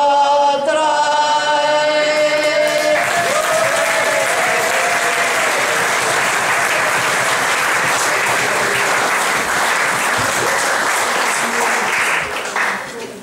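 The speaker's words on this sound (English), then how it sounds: "Please don't clap too long because I'm just on a limited time scale here." Concert audience at a festival breaking into loud, sustained applause that rises after a few seconds of musical notes and fills the room for about ten seconds before starting to fade.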